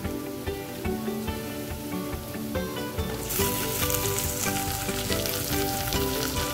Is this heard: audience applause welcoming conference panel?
no